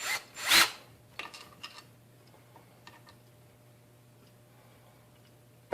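A Ryobi 18V One+ cordless drill driver drives a regular Phillips head wood screw into wood without a pilot hole. Two short, loud whirring bursts come at the start, then faint ticks and scrapes over a low steady hum in near silence.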